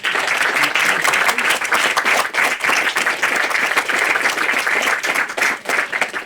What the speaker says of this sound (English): Just a big round of applause for